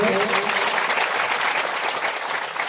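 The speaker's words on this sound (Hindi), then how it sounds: "बताओ तालियां भी बजाई।" An audience at a Shrimad Devi Bhagavat Katha religious discourse claps steadily in a dense round of applause, with a voice briefly audible at the start.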